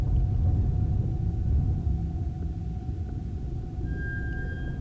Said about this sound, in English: sort of the rumbling of the anomalies is almost like thunder.